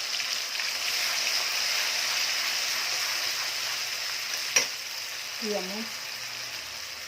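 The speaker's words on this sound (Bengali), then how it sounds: "গরম মশলাটা ভালো মতো ভাজা হয়ে গেছে, এখন মশলা বাটা দিয়ে দেবো।" Onion, garlic, ginger and cumin paste hitting hot oil with whole garam masala already fried, a steady close sizzle with one sharp clink and a brief low murmur near the end.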